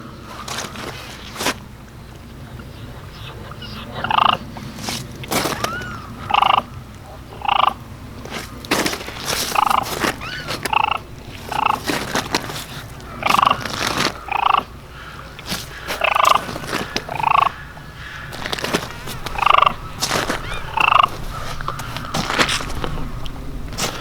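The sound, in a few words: turkey mouth call imitating turkey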